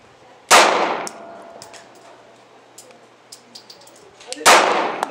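Two sharp, loud shots from a Glock pistol fitted with a Trijicon RMR sight, fired at an outdoor target about four seconds apart, each with a short ringing tail and faint clinks in between.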